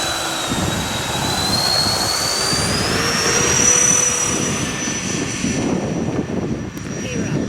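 A FMS Su-27 Flanker twin 70mm electric ducted fan model jet whines up to a loud, steady rushing roar on takeoff, a high-pitched fan tone climbing in pitch over wind and outdoor noise.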